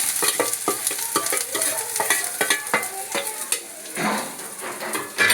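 Chopped onion frying in a pan with lightly browned garlic for kadhi pakoda, crackling and sizzling close up while a utensil stirs and scrapes against the pan in irregular strokes, with no voices.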